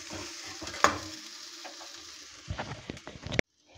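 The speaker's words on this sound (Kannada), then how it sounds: "ನೋಡಿ ಫ್ರೈ ಆಗ್ತಾ ಇದೆ." Spices frying in a pan for an egg and layer chicken curry, a close sizzle with a sharp utensil clink early on, then a burst of scraping stirring before the sound cuts off, with no talking.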